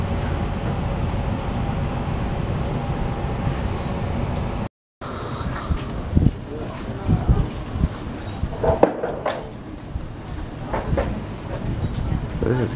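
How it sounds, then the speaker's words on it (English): A train at the terminating platform of Kippa-Ring station in Brisbane on the line's first public day: a loud, continuous rumble with a brief dropout, then rattles and clunks as people talk nearby. "This train terminates here at Kippa-Ring."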